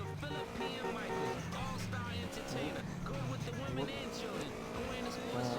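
A motorcycle engine revving and whining as it is ridden in GTA San Andreas, continuous with shifting pitch and close, heard under excited talking.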